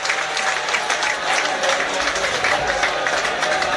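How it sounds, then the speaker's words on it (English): Football fans applaud in a stadium at a World Cup qualifier between Liechtenstein and Wales, a dense, steady patter of clapping from a crowd close by, with a commentator's voice faintly underneath. "And those fans in front of us will applaud."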